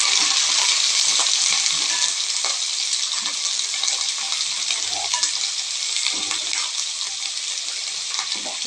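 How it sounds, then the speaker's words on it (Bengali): Chopped carrot and capsicum sizzle steadily in hot oil, a dense, continuous frying hiss with faint stirring scrapes throughout. "তেল গরম হয়ে গেছে। এখন আমি দিয়ে দেব গাজর কুচি, ক্যাপসিকাম কুচি,"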